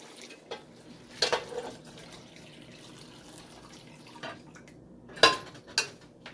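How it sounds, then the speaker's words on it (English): Milk poured into a pan of carrot rice pudding, with a few short splashing pours and clinks against the pot separated by quiet gaps, close by and without talk. "now we will add the milk"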